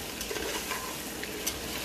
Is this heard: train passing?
no